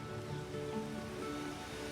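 Water from a spring tumbles into an irrigation channel in a Corfu garden, a continuous soft splashing and gurgling at a moderate distance, steady and unbroken, with no speech.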